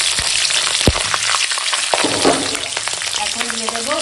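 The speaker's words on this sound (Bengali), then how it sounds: "এখন দিয়ে দেব কালো জিরে ফোড়নে দিলাম, আর দেবো চেরা কাঁচা লঙ্কা" Nigella seeds sizzle in hot mustard oil alongside slit green chillies, a loud, steady crackling fry with occasional sharper pops and stirring scrapes throughout.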